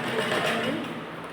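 A sewing machine stitches lace onto a blouse with a brief, even whirring run at moderate volume, steady throughout and without a clear pause.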